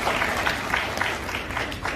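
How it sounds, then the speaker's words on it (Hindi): Audience applause at a confidence academy summit press conference event, a steady wash of many hands clapping with a few louder bursts, moderately near and filling the whole stretch. "हाँ बजा लीजिए ताली।"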